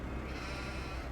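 Lambs bleat in a farming simulator set on a snowy farm, a short, soft, wavering bleat heard faintly and alone.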